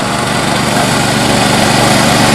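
A greens mower fitted with brushes cuts a golf green, its light engine droning loud, close and constant with no pauses.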